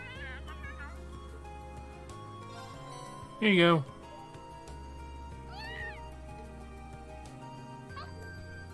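A cat in the game Trails of Cold Steel, heard by the academy front gate, gives one loud, clear meow, followed later by a fainter one, over quiet background music while a person speaks briefly.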